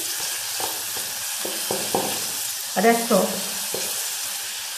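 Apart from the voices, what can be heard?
duck speck sizzling in hot oil with rosemary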